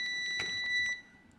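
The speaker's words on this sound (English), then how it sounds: "put into test, as I've done here, take out your lead, and you get this loud beep" A WinAPEX ET8101 multimeter in live-test mode gives a loud, high electronic beep that pulses several times in quick succession, then cuts off, leaving faint background hiss.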